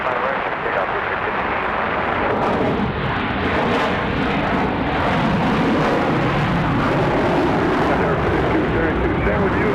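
A Blue Streak passenger jet takes off from runway 5 right at Raleigh-Durham International, a steady broadband roar holding loud and constant throughout, with voices mixed in.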